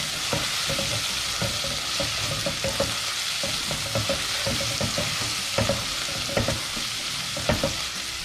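Aloo gosht with ginger and garlic sautéing in a pan, a constant hiss of frying broken by frequent scraping, clattering stirs of the spoon, close and fairly loud, with no talking.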